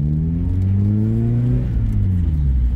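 A 1990 Mazda MX-5 Miata drives along at low speed, its engine droning loud and steady with a rising and falling hum as revs shift, close up with no talking.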